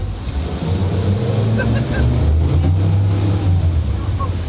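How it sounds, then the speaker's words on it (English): Outboard motors on a boat cruising in Alaska, a loud steady drone with the rush of water and wind, heard up close and continuous throughout. "Gotta trim those motors down, Matt"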